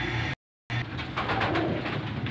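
Pigeons of rare old breeds coo on a house rooftop in a short close call after a brief silent gap, with no talk.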